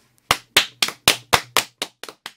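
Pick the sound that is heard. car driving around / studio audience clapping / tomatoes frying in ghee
studio audience clapping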